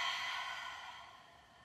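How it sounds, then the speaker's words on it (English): A single long open-mouth exhale after a deep nasal inhale during a yoga breathing exercise, soft and breathy, fading steadily over under two seconds with no talk. "Take a deep inhale through your nose. Open your mouth and exhale."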